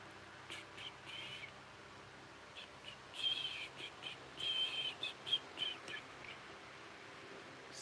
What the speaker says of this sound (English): Excuse my whistling.